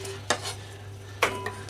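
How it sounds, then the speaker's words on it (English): Knife chopping onion halves into pieces on a board while cooking sesame seed beef, giving two sharp separate chops about a second apart plus a lighter tap, close up over a low steady kitchen hum. "I cut them first in half and then put the knife through them a couple of times"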